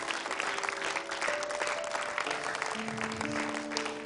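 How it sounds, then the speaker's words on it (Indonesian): A studio audience at the grand final of an Indonesian Quran recitation competition applauds for the contestant Zula, steady clapping over a backdrop of sustained musical tones. "Boleh tepuk tangan untuk Zula"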